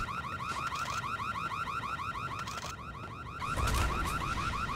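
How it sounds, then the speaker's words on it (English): A repeating electronic alarm from the video game Max Payne on PS2 wails in a steady, fast cycling pattern, loud and continuous throughout with no talking over it. "Oh, that's not a very pleasant alarm sound."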